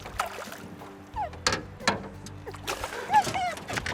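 A landing net dipped into lake water during pike fishing, with a caught walleye, giving close splashes and sloshing interspersed with boat knocks, while people talk excitedly over it.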